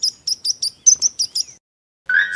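A rapid series of bright, high chirps, eight or so in a quick rhythm, then a pause and a longer sustained call; close and clear.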